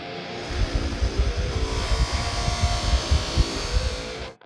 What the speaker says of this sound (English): I'm gonna smooth it out a little bit more with the Scotch-Brite wheel.